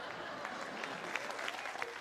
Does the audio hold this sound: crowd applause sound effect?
yes